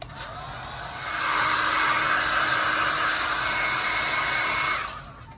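A hair dryer switches on and blows steadily for a few seconds to dry a flower window craft project, loud and close with a broad airy whoosh, then cuts off near the end; no talking.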